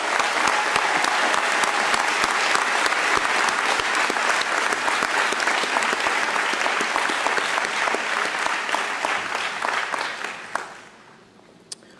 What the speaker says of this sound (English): can we give God a hand clap for our kids?